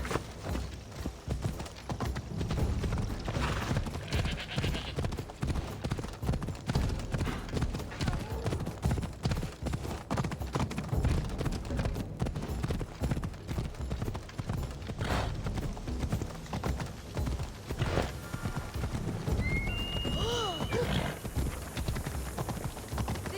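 A horse's hooves clip-clop at a steady, rapid rhythm in the video game Assassin's Creed Odyssey, continuing for the whole stretch at moderate loudness with faint game sounds behind.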